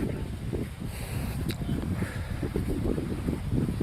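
Steady low wind rumble on a beach at night buffeting the microphone, continuous and fairly loud, with gusty fluctuations and no voices.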